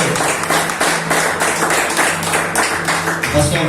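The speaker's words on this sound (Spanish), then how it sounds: "Dar un fuerte aplauso a Dios" A church congregation claps in sustained, dense applause that holds steady for the whole stretch, close and loud, with voices mixed in underneath.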